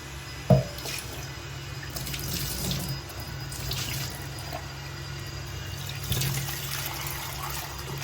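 Water runs and splashes steadily as dried sea fish is rinsed by hand in a sink, with a sharp knock near the start and another later.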